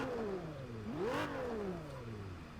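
An Aston Martin V12 sports car engine in the video game Test Drive Unlimited Platinum revs up to a peak and falls back, its rising and dropping whine loud and steady throughout.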